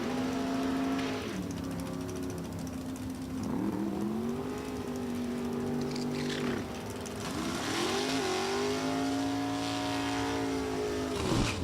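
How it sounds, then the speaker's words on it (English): A 588-cubic-inch Corvette drag races down the right lane at a Super Gas event. The engine roars loudly and sweeps through rising and falling pitch as it accelerates through repeated gear changes, with no talk over it. "Steve Hoyt from Fort Wayne, Indiana is in the Corvette in the right lane, 588 cubic inches"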